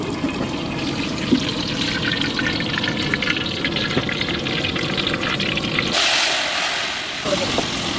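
Oil pours into a pan for frying soybean and potato in a village kitchen, a steady liquid rush with splashy texture that cuts off near the end.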